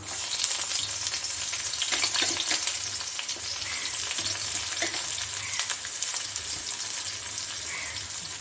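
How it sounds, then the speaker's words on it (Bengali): Onions just added to a pan after frying okra, sizzling steadily at moderate volume with intermittent stirring scrapes and a low background hum, near and without speech. "এখন আমি এখানে পেঁয়াজ দিয়ে দিচ্ছি"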